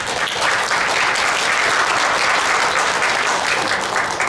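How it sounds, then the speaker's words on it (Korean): Audience applause at a forum seminar in a youth cultural center hall in Pohang, a loud dense continuous clapping from a seated crowd, steady throughout with no speech. "박수 부탁드리겠습니다."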